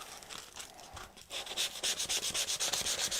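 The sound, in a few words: sanding MDF with round sanding disc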